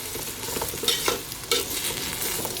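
Rice frying in a pan with meat for pulao, a steady low sizzle broken by scraping strokes of a spoon as it is stirred, close and alone.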